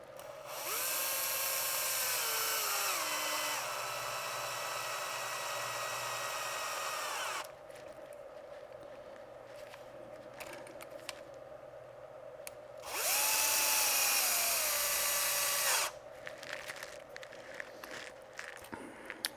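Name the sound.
power drill removing screws from a Traxxas Sledge chassis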